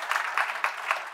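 An audience clapping together at a design conference talk, a short burst of dense, even applause from a crowd in a room.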